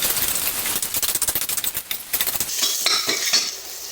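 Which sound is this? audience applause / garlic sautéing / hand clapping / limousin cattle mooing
garlic sautéing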